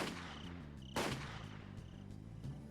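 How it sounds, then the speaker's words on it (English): Gunshot effects in the visual novel Higurashi When They Cry: one sharp loud crack stands out over a steady looping music bed, followed by a few fainter, distant pops. "Bang! Bang! I heard it from a different direction this time."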